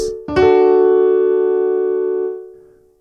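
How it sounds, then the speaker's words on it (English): A single piano chord, its notes struck in quick succession from low to high, rings out and slowly fades over a few seconds. "I like to roll my fingers, so I'm not playing all the notes at the same time"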